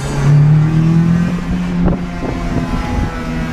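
A PT Cruiser car drives along and takes a turn, its engine humming loudly and close with a steady drone that shifts in pitch, alone without talk.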